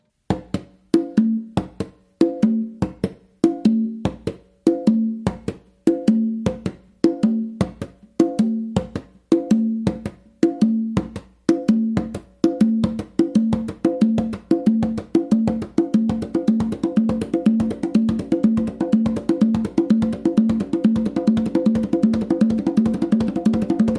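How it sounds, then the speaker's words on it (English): Conga practice exercise on three congas, alternating bass and open tones in a steady repeating pattern, close and clear, speeding into a fast continuous roll toward the end, with no voices. "but I would do a bass with my main drum"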